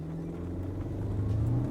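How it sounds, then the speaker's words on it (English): A Cupra Formentor with the 1.5 engine accelerates hard in sport mode, its steady low engine drone rising slightly in pitch as it holds a gear, loud and close with no talking. "now we can start hearing that engine just roar a little bit more"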